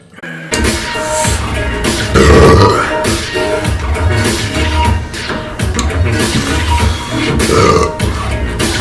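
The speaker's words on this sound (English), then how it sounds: "I feel like it's a burp." A loud, drawn-out burp after downing banana and Sprite, rumbling and close, followed by more grunting belches with voices in the background.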